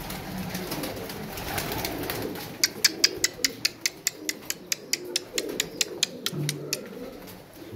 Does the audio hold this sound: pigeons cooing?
yes